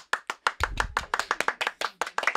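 A small audience claps in a sparse, uneven rhythm, a couple dozen sharp, close hand claps spread over a few seconds with brief gaps between them.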